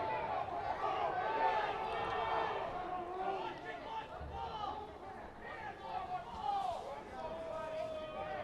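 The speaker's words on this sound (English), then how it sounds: "It's amazing we have so much crowd noise with like 18 people in the stands." Crowd noise at a high school football game rises as a steady murmur of cheering and chatter from a small crowd in the stands, continuous and moderately distant.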